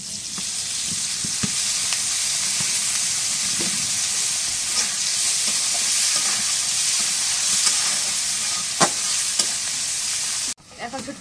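Oil sizzles hard in a frying pan with a spice paste, a loud, dense crackling hiss broken by occasional pops, then cutting off abruptly near the end.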